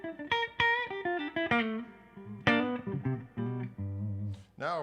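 Clean electric guitar played straight through a Koch Greg amplifier, plucked notes and chords ringing out with clear harmonic overtones in an uneven, phrase-like rhythm, close and moderately loud.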